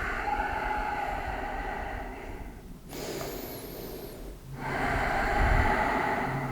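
Long, deep yoga breaths close to the ear in a quiet room: slow airy inhales and exhales, one stretch of breath after another, ending in a louder breath.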